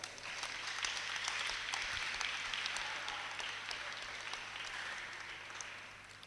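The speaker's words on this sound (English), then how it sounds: "everybody, give them a round of applause." Audience at a business pitch session giving participants a round of applause: steady, moderately distant clapping from a hall crowd, fairly even throughout with individual claps occasionally standing out.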